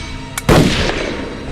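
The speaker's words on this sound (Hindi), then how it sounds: "उसने दूसरी गोली चलाई" A revolver fires its second shot in a Hindi TV crime drama: one sharp, loud bang preceded by a faint click, then a decaying echo.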